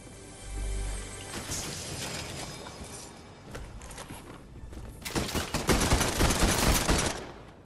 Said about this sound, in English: Oh, someone's taking shots at me.